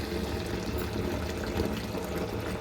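Water pours steadily into a cooking pot holding drumsticks to be boiled; the close, continuous rushing flow stays even throughout with no talk.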